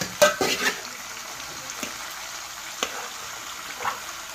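Ridge gourd pieces tossed into a hot pan, giving a quick burst of stirring and sizzling clatter at the start, then a faint steady fry hiss with a few soft scrapes of the utensil.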